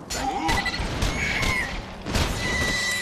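Rapid weapon fire and explosions in the shooter game Borderlands 2, a burst of loud booming shots with synthetic tones, close and dense over a few seconds.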